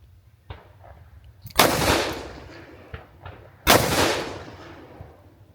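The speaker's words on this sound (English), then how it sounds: "I'm gonna take a couple shots single action, a couple shots double action, see what it do." A Taurus Judge revolver fires hollow point slugs, two loud booming shots a couple of seconds apart, each with a long ringing tail, plus a few faint clicks and handling noises between them.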